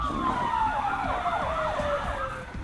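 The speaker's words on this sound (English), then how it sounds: "Off camera, he told us the sirens are for the safety of the procession." Wailing siren of a security escort vehicle leading a funeral procession in northwest Miami-Dade, a loud, close electronic siren sweeping in pitch continuously, with a fainter second siren layered beneath.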